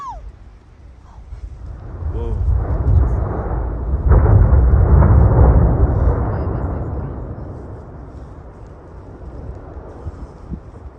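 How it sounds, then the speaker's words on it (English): Volcanic eruption in Central America, a deep rumbling blast that swells from about two seconds, peaks loud and broad near four to six seconds with a shockwave roar, then slowly fades into a low rumble. "Eruptions are such an amazing sight to see. You can actually feel the shockwave passing."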